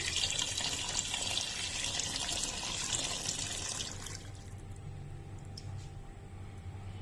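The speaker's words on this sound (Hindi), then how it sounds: "ये 5 कप पानी का हमने मेजर किया था वो डालेंगे।" Water pours steadily into a cooking pot for mutton trotters (paya) for about four seconds. The pour then stops, leaving faint drips and quiet room sound.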